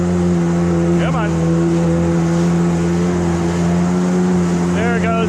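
A Yamaha WaveJammer jet boat's 500cc motor runs in a steady loud drone with strong tonal hum, water splashing and brief revving sweeps, a voice speaking over it.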